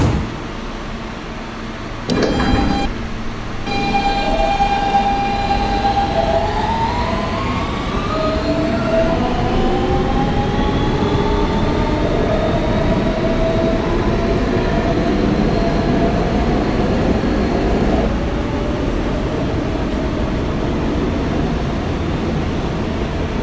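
A Kawasaki R160B-2 Siemens subway train on the New York R line rumbles loudly along, with rising and falling electric motor whines sweeping up in pitch as it accelerates, over steady wheel and track roar.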